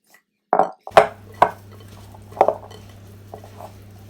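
Oven-baked potato fries tossed in a bowl, a few separate clinks and knocks of utensil against the dish, close and sparse with quiet gaps between.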